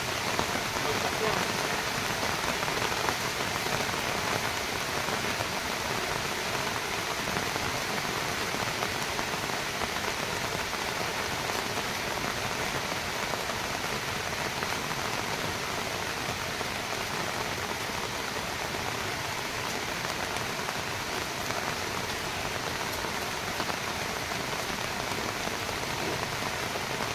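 Heavy rain pours down steadily for the whole stretch, a dense, even hiss of drops hitting surfaces with no break.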